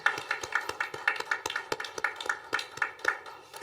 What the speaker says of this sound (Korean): 사랑의 마음을 담아 박수 보내드립니다